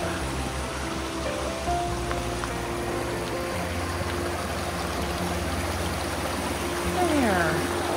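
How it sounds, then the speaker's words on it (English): A little waterfall on a hiking trail by a footbridge, a steady broadband rush of falling water running continuously at moderate distance, with occasional low engine-like hum and a faint bird chirp near the end. "We're gonna cross the little waterfall."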